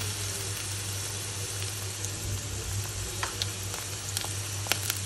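Ginger and cumin paste fries in a pan with a close, continuous sizzle and a low hum underneath, with faint clicks and scrapes of stirring scattered through; no talking.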